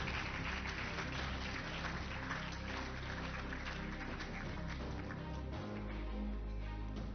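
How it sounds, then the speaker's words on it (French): A crowd at a startup pitch session claps in sustained, dense applause that stays loud and even from start to finish, with no voices heard above it. "je vous demande d'accueillir sous un tonnerre d'applaudissements"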